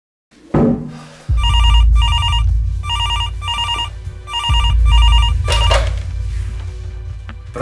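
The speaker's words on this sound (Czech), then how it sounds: "to je moje vyzvánění, když mi volá fotr" A phone ringtone plays in rapid repeated pulses of a bright electronic trill, loud and close over a heavy low rumbling background, with a brief sharp noise burst near the end.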